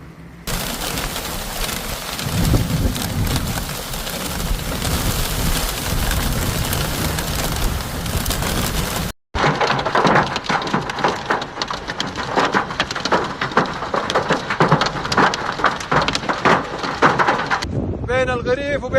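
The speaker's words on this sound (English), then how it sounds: "heavy rain accompanied by hailstones caused disruption in some areas" Heavy rain mixed with hailstones pours down during a storm in Saudi Arabia, a loud dense roar of drops and pelting ice that runs throughout, shifting to a brighter clattering texture partway through, with voices speaking over it.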